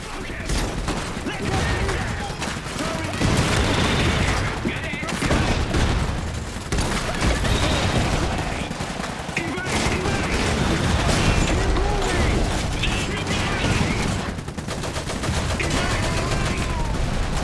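Units in the Iron Harvest video game open fire in dense, sustained volleys of gunfire, with crashing impacts and some voices mixed into the loud, continuous battle din.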